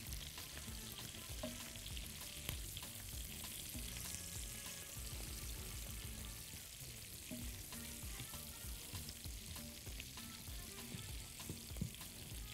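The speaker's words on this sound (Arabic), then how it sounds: "خليها على جنب كده تسيح بس وتنزل وتقرمش" Fat frying and crackling in a pan as it melts and crisps, with steady dense sizzling throughout, close and continuous, with no talking.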